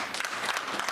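Brief applause fills a community board meeting room, a short burst of many hands clapping at moderate volume.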